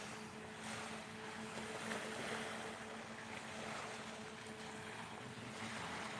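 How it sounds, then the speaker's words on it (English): Slow ocean waves wash steadily at night beside water where people fish with flashlights, a soft continuous surf hiss with light wind noise on the microphone, no voices. "the slow waves could help you fall asleep"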